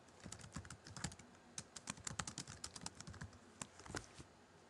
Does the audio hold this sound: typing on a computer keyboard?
yes